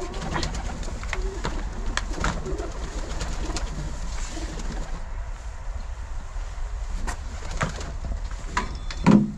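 Pigeons cooing while being fed, repeated soft coos near and far alongside wing flutters and bird calls, with scattered handling noises and brief clatters.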